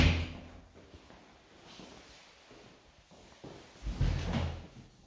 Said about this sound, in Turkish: Şöyle kapıyı çekeyim, rahat bir şekilde görelim.